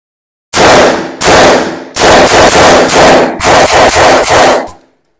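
An MP5 with blowback action fires in loud, close bursts of rapid shots: several strings of fire with brief gaps between them, ending in a short final burst.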